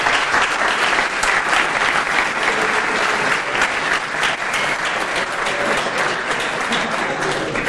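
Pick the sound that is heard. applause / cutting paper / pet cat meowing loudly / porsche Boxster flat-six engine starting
applause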